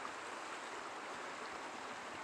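Stream flowing through the woods, a soft, continuous babbling wash of water that holds steady throughout, faint and with no voices.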